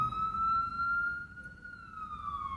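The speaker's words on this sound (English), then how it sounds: "Oh, the sirens, excuse the sirens." An emergency vehicle siren wails steadily, a sustained rising and falling tone, fairly loud over low traffic rumble, with no talking.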